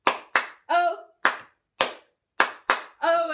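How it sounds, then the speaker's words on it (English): Sharp, close hand claps land in an uneven rhythm during a children's storytime singing the Bingo song, several crisp single claps separated by short silences, with brief sung syllables between them. "We're going to clap all the letters."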